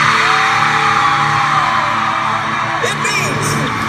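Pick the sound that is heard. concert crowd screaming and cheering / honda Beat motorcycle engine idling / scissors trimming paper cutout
concert crowd screaming and cheering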